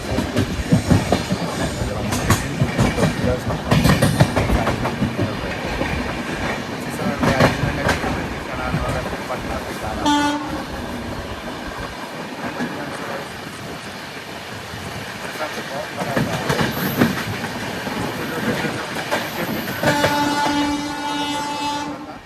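A South Bihar Express passenger train runs over rails past a railway station, with steady rolling rumble and clickety-clack throughout, and a horn sounding near the end; a voice talks faintly in places.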